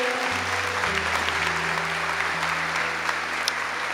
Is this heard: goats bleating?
no